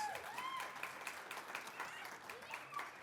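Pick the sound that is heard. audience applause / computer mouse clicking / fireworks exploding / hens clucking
audience applause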